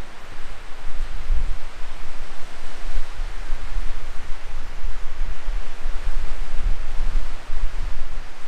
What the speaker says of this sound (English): The wind's already come up